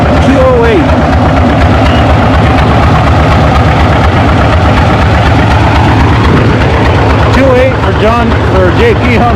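A John Deere pulling tractor roars at a tractor pull event in Othello, a loud, rumbling heavy engine running continuously for the whole stretch, with an announcer talking over it.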